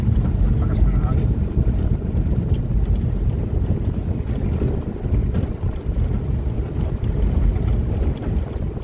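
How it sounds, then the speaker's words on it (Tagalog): Strong wind buffets the microphone continuously outdoors in a cornfield during airgun hunting, a loud, constant low roar with no pauses throughout. "Lakas ng hangin."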